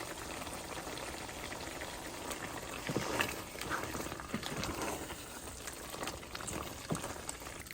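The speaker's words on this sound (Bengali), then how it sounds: "এই যে কাছ থেকে দেখাচ্ছি বটগোলা সিদ্ধ হয়ে আসছে" Beef tripe simmers in a pot with only a little water left, giving a faint, steady bubbling and sizzling hiss with occasional small pops, close but quiet, with no talk.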